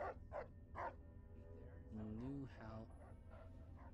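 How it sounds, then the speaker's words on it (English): Dogmeat, the dog companion in the Fallout video game, lets out a few quick, sharp barks followed by a whining, whimpering call, while a voice talks over the sounds. "Why are you barking?"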